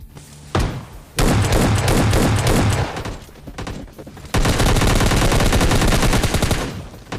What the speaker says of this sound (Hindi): कहाँ से शॉटगन चला रहे हैं मेरे पास